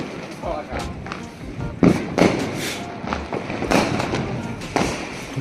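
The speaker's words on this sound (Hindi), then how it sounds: "तो हम लोग आ गए हैं फाइनली पटाखे छुड़ाने के लिए।" Diwali firecrackers set off by a family in Prayagraj, a series of sharp bangs and thumps spaced a second or so apart, with people's voices talking and calling alongside.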